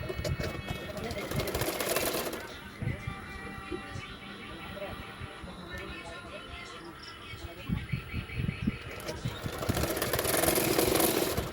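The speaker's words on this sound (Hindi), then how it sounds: "तो मैंने इसी तरह से सिलाई कर रही हूँ" An electric sewing machine stitches a double katori blouse in bursts, whirring loudly at the start and again toward the end, with quieter gaps in between, while someone talks through it.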